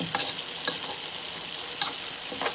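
Onions frying in a pot while Nigerian rice and beans jollof is cooked, giving a steady low sizzle broken by a few sharp stirring clinks, moderately close and with no talking.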